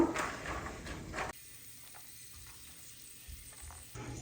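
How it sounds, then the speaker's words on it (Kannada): Peanuts roasting in hot oil in a pan give a steady close sizzle and frying crackle with faint stirring, loudest in the first second, then settling to a quieter, even sizzle. "ಫಸ್ಟು ಸ್ವಲ್ಪ ಕಡಲೆಬೀಜ ಹುರ್ಕೊಂಬಿಟ್ಟು ಎತ್ತಿಟ್ಕೊಬೇಕು"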